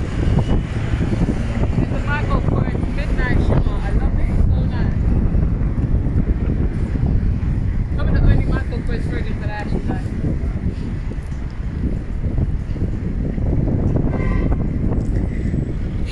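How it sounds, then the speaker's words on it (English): Wind buffeting while riding a London bus, P13 route, a constant roaring rush close to the microphone, with people talking over it throughout. "hear the wind"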